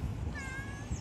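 A street cat in Tunisia gives a single short, clear meow in the middle, close by, over faint background noise.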